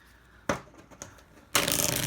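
Tarot cards being shuffled: a couple of quick riffles, then a longer, louder burst of crisp flapping and ruffling.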